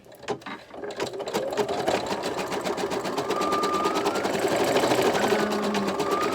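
An in-the-hoop embroidery machine sews a zipper mask, stitching back over an already-stitched section. Its rapid, even needle chatter runs close and continuous, growing slightly louder partway through, with no voices.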